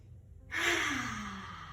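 A long, audible exhale during a chair yoga breathing exercise: a sudden breathy release after silence that slowly fades, close and clear, with no talking over it.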